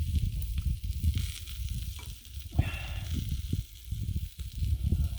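Pork loin sizzling and frying on a flat griddle, a steady close hiss and crackle with a few scraping stirs, heard alone without talking.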